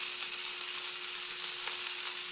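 Potatoes fry in an Elite Gourmet electric skillet with a continuous, even sizzling hiss, close and steady, with no talk.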